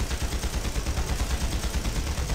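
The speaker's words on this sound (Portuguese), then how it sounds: "O homem ali a mandar tiros." Rapid bursts of gunfire in the online video game Panzar crackle continuously, dense and steady like automatic weapons firing without pause, with no voices.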